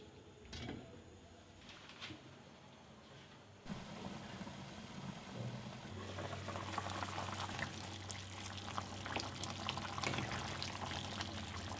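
Duck curry with ash gourd simmering in a covered pot, a faint bubbling and low hiss that grows fuller and busier partway through and keeps going steadily.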